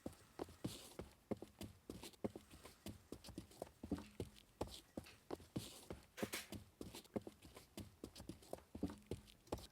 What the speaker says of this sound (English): if I take this footsteps track